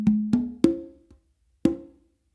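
Congas play a funk melody tumbao: three quick open tones, a soft ghost note, then another ringing open stroke, close and clear with no talking.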